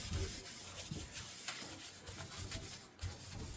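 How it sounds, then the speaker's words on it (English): A scrubber rubs across a heavily soiled kitchen counter, working from top to bottom in steady, close, fairly quiet scraping strokes with a few firmer pushes. "Now this is really dirty, this is why we're using the scrubber first."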